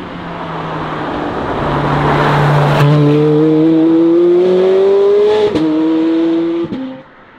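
A Ferrari 430 Scuderia sports car engine revs loudly and close, rising through several sweeps with brief gear-shift breaks before cutting off at the end.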